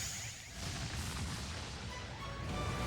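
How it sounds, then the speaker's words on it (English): A video game explosion rumbling out as a heavy, sustained boom with crackling debris, fairly loud and continuous for a few seconds with no talk over it. "Explosion!"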